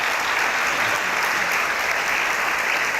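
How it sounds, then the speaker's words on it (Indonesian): Studio audience applause on an Indonesian talk show, a loud, steady wash of many hands clapping together without a break, with no voices on top. "Tepuk tangan nih"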